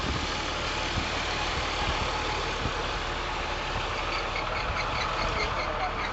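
An Agri Master 1604 tractor idles with a continuous low diesel rumble, steady and fairly loud, running alone without talk.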